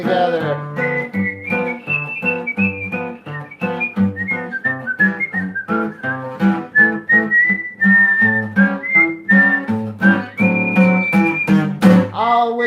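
A group of people whistle a bright tune, a continuous melody over rhythmic musical accompaniment with drums, loud and close.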